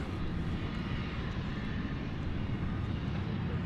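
Boeing 767 jet airliner departing in the evening at DFW Airport, a steady broad engine roar that holds loud and even throughout, with no voices.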